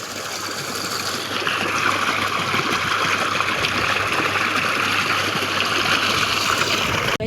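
Water pours from a running borewell pump outlet in a farm field, a steady, close, continuous rushing gush with no pauses and no talking.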